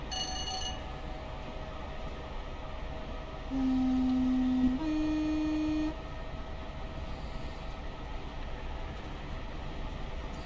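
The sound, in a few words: Class 412 4-BEP train horn in Train Simulator video game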